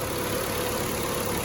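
A car engine revs gently in neutral, a close, steady, dense mechanical hum with a belt squeal blended into the running engine.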